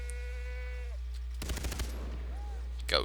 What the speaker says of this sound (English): Goats or sheep, whatever.